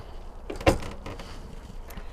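The screen door of a new 2023 Thor Chateau 22B Class C RV on a Ford chassis opens with a brief latch click and a soft rattling swing, close by and without talk.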